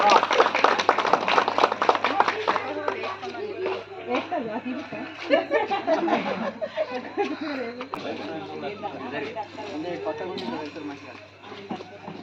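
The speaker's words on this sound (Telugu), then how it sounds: "చప్పట్లు చిటికెలు" A crowd claps and snaps fingers at a felicitation ceremony honoring a local councillor, dense rapid clapping up close at first, then thinning out under ongoing chatter and background voices.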